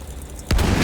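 A tank fires in the video game Battlefield 1: a sudden heavy boom bursts in halfway through, a loud cannon-like blast with a rumbling tail after a quieter stretch of background noise.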